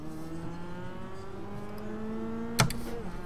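A Mazda Cup race car in iRacing at Okayama accelerates off the race start, its engine note climbing steadily. A sharp click cuts in near the end.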